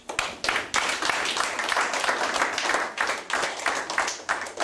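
An audience claps in uneven bursts, the applause rising and dipping in waves, fairly close and lively, with scattered individual hand claps.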